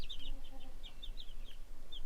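Chickens on a farm where the flock is hatched on site, a few soft clucks and higher calls scattered in a quiet outdoor setting, faint and fairly distant.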